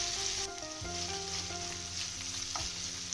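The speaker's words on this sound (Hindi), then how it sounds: "ऐसे गैस की फ्लेम को मीडियम टू लो में रख के हम पनीर को थोड़ी देर पका लेंगे।" Paneer frying with masala in a pan over a medium-low gas flame makes a continuous close sizzle with a low steady hum beneath it; nobody speaks.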